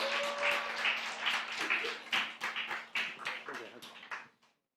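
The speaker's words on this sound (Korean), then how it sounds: "나오실 때 큰 박수 부탁드리겠습니다" Applause at a Sunday afternoon church service as someone is called forward, rhythmic clapping in unison with a sustained tone beneath, fading out at the end.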